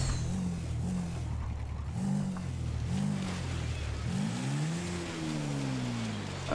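A motorbike engine in GTA V hums and revs in repeated short surges, then climbs into one longer rising rev, steady and moderately loud throughout.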